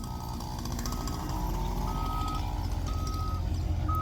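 A borrowed truck backs up, its reversing alarm sounding as repeated steady beeps over a rumbling diesel engine and clattering noise, moderately close, with no talk.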